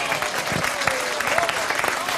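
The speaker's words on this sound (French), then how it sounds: "On l'applaudit." A crowd breaks into applause at a French literary tribute, a thick wash of clapping that stays loud and even throughout, with some murmured voices mixed in underneath.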